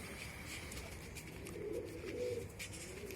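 Pigeons coo softly in a low, throaty murmur, with a few short rounded calls swelling in the middle and over a steady faint background hum; no one speaks.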